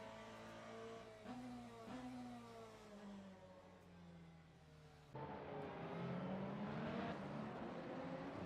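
Hypercars racing at Fuji in a sim racing game, several engines whining and shifting up through the gears together, a steady close drone of rising and falling revs with a louder surge as the pack accelerates.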